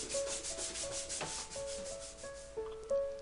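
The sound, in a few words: light sanding of a painting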